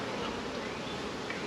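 Honey bees buzz at a hive in a dense, continuous drone, faint and steady throughout, with no voices over it.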